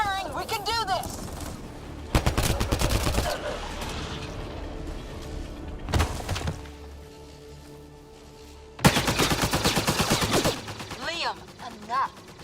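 Bursts of sci-fi gunfire from the video game Mass Effect: Andromeda come in several loud volleys separated by quieter stretches, with voices calling out over the combat.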